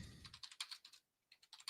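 Fingers type quickly on a computer keyboard, a close flurry of light clicking keystrokes that stops briefly before resuming, with no voices.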